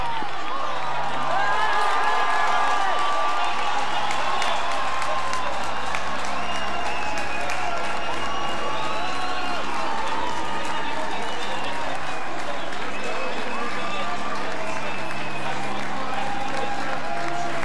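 A large crowd at the Roubaix Velodrome applauds and cheers continuously through the finish of the Paris-Roubaix cycling race, a loud, dense roar of clapping and shouting.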